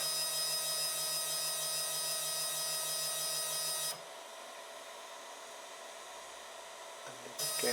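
A 3D printer fitted with a BLTouch auto-leveling probe homes its Z axis, giving a steady stepper-motor whine with a fan-like hum that drops to a quieter drone midway, then briefly rises again at the end.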